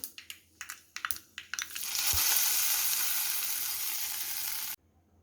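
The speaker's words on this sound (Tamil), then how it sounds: "நம்ம இந்த சட்னி கூட தாளிச்சிடலாம். இதுக்கு பார்த்திங்கன்னா கடுகு, உளுந்தம்பருப்பு, அதுக்கப்புறமா பார்த்திங்கன்னா கொஞ்சம் கருவேப்பிலை போட்டிருக்கேன்." Mustard seeds, urad dal, curry leaves and asafoetida tempering in hot oil for a chutney: a few sharp crackles and pops at first, then a loud, steady close-up sizzle that cuts off abruptly near the end.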